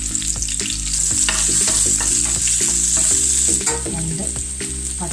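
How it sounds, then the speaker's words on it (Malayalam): Mustard seeds, curry leaves and shallots frying in coconut oil for a Kerala theeyal, a loud close sizzle with rapid crackling pops and spoon-stirring scrapes, with no voices. "അതിലേക്ക് കടുക്, അതിലേക്ക് നമുക്ക് 2 കറിവേപ്പിലയും കൂടി ഇട്ട് ഉള്ളി ഇട്ട് കൊടുക്കാം."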